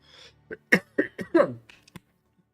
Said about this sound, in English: second, I'm gonna cough.